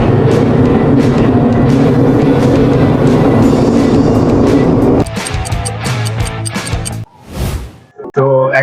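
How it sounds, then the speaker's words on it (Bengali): A Dhaka metro rail train pulls into a station bound for New Market, its loud, steady rumble and rolling noise filling the platform before easing off, followed by clatters and a voice nearby. "তো এখন আসছে মেট্রো রেল ঢাকা যাওয়ার জন্য নিউ মার্কেট"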